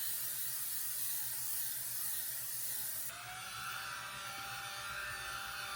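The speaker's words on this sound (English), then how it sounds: "I'm going to go in with my L'Oreal Paris setting spray." A steady, broad hiss of L'Oreal Paris makeup setting spray runs throughout, changing in tone partway through, with no talking.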